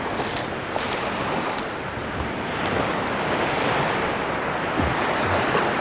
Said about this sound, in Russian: пока послушать и подивиться на все это чудо и прекрасность нашего Джиматинского моря